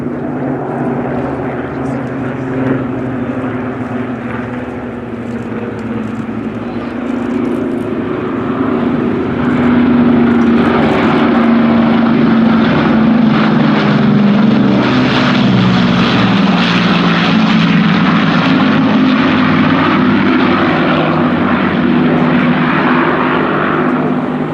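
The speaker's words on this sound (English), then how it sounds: "See the bombers enter the crowd line." Lancaster and Dakota bombers flying past in formation at the Royal International Air Tattoo at Fairford, a deep droning roar of piston propeller engines swelling louder midway while a commentator talks over it.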